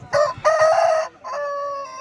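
A rooster at a Sunday cock market in Vijayawada crows loudly and close by in a few harsh, strained bursts, alone without talk.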